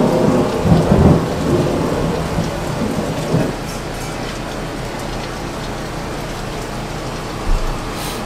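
Heavy rain pouring outdoors with a loud rumble of thunder at the start that fades after a few seconds, leaving a steady hiss of rainfall and a brief gust near the end.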